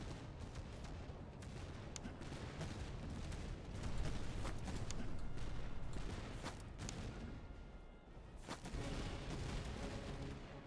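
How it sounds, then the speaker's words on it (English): Musket volleys from dragoons and grenadiers crackle in the Cossacks strategy game, a dense, continuous fusillade of overlapping shots with rumbling battle noise, rising and falling in intensity, with no talking. "going to go in a shooting match against these guys, because they are Grenadiers"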